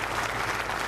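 An audience at a night satsang gathering claps steadily in dense, continuous applause for the organizers and volunteers, moderately loud and unbroken throughout the short moment.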